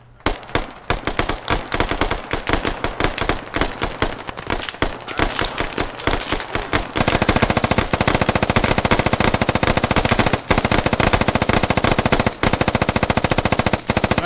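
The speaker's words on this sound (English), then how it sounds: "Alright, everybody with ACOG, just start firing." Gunfire in the military shooter Squad, with scattered shots fired at first, then a dense, unbroken stream of rapid automatic fire from many weapons that stays loud to the end.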